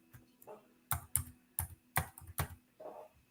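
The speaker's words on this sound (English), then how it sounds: "Let me go type this in." Keys tapped on a computer keyboard to enter a six-digit code, a quick uneven run of crisp, close clicks in a quiet room.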